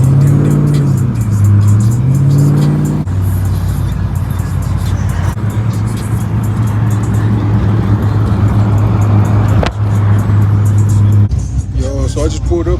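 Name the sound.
pickup truck driving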